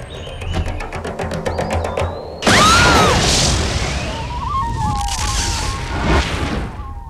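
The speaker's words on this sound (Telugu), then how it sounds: "హెల్త్ మినిస్టర్ని టార్గెట్ చేసి పెట్టిన మందు పాత్ర పేలి కేటీవీ యూనిట్ బలి" A landmine blast in a Telugu film scene strikes a TV crew. It is a sudden, loud boom after a stretch of rhythmic pulsing, followed by a long crashing, rumbling tail with whistling tones.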